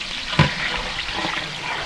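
Chopped onion drops into a large pot of mutton being cooked in bulk for a village fair feast, giving a steady hissing sizzle after a brief thump at the start.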